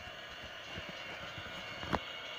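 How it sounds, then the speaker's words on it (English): A steady low rumble of a train passing at a distance, with faint rhythmic clacks and one brief squeal, no voices. "Another train coming."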